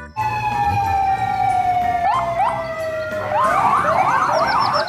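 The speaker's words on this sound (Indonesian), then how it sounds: "Yang ini mobil polisi." A toy police car plays a loud electronic siren, a steady wailing tone that sweeps and warbles continuously for several seconds with no voices.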